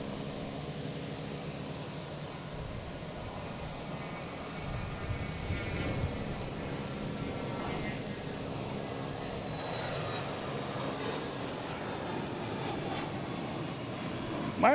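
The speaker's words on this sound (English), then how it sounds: "We have a JetBlue coming in from, where is it here?" A JetBlue jet airliner arriving from Houston at Boston Logan gives a continuous, fairly distant engine roar with faint whining tones, building a little toward the end.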